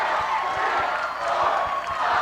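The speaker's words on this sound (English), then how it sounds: "Crowd chanting along." A wrestling crowd roars and chants in a dense, continuous wash of voices, with faint rhythmic claps or stomps pulsing beneath it.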